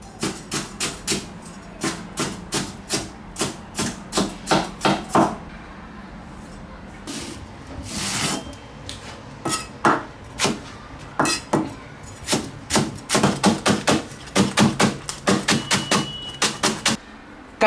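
Garlic being hacked with a cleaver on a board gives a long run of rapid, sharp chopping knocks, close and loud, broken by a brief pause before another fast flurry.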